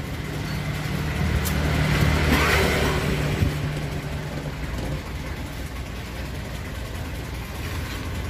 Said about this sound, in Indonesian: Mesin hidup.